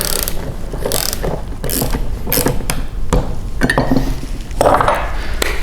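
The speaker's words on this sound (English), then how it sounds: "take your 9/16 wrench, socket, whatever you have, and just go ahead and tighten all of these bolts down until they're secure" A 9/16 wrench or ratchet tightens bolts on a striping kit fitted to a 2018 Honda HRR lawn mower, with repeated close clicking ratchet strokes in quick runs broken by brief pauses and metallic clanks.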